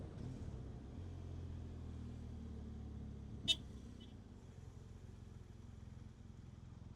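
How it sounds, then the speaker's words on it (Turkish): Road traffic crawling across a bridge, heard from a BMW R1200 GS motorcycle, gives a steady low engine rumble; a single short car horn honk sounds midway, then the traffic drone carries on. "Baksana abi trafik var her yerde."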